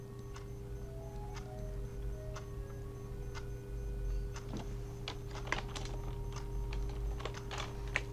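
Typing on a computer keyboard while formatting a document in Word, close, quiet key taps in an uneven rhythm with a couple of firmer presses, over a steady low hum.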